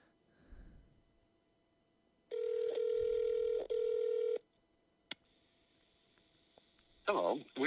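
A telephone during phonebanking gives a dial tone in two loud bursts, then a single short beep and a fast run of touch-tone dialing at the end, with faint voice early on.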